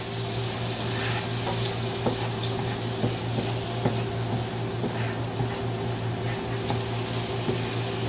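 Onion and garlic frying in a pan for shrimp scampi, a steady sizzle that holds throughout with faint stirring scrapes and a low constant hum underneath.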